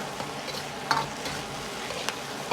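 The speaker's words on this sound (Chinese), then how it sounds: "开大火快速的翻炒几下，炒出锅气，炒出香味" Green beans and eggs stir-fried in a wok over high heat, a continuous bright sizzle punctuated by a few sharp metallic scrapes of the spatula tossing the food, close and alone.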